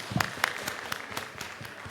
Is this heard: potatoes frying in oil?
no